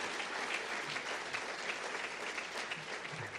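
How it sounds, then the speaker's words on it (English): Steady audience applause fills the room at the National Book Critics Circle Awards as its president, Eric Banks, is welcomed back, a dense, even wash of clapping with no voices over it. "He deserves that applause"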